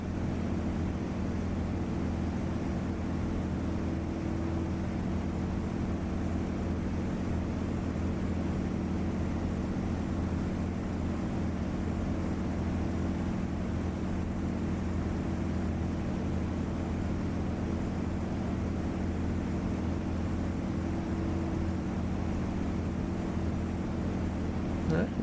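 A small trainer aircraft's engine in a flight simulator game drones at a steady, even pitch with a constant propeller hum, loud and unbroken from start to finish.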